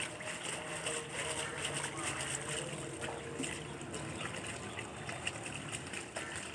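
Scaled sal fish is rinsed in water in a village kitchen, producing soft continuous sloshing and trickling close by, fairly quiet, with no speech.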